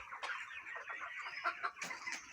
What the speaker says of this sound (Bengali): এত সুন্দর মুরগি আপনারা দেখছেন